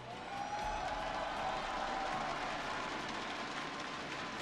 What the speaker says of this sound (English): Thanks for cheering, all of you.